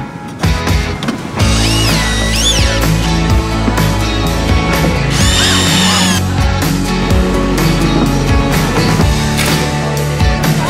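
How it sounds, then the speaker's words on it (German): Cordless drill driving screws to fix side walls onto a mud slide, loud whining motor bursts that rise and fall repeatedly, close up and continuous over the whole stretch. "Wir schrauben hier oben gerade die Seitenwände dran."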